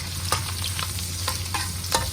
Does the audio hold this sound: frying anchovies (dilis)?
yes